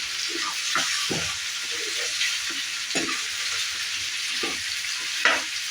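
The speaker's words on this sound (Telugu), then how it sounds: "ఇప్పుడు మనం ఇందులోకి మటన్ వేసేసుకుందాము మనం ముందుగా ఉడికించి పెట్టుకున్న మటన్ వేసేసుకుంటున్నాం ఇందులోకి ఇలా ఒకసారి అంతా బాగా మిక్స్ చేసుకున్నాము" Precooked mutton sizzles and fries in a curry pan as it is stirred, with steady broadband frying hiss and repeated scraping stir strokes close up throughout, no talking.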